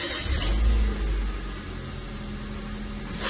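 A repaired car's engine runs steadily at close range, with a brief rise in engine noise at the start before settling to an even drone; no one speaks.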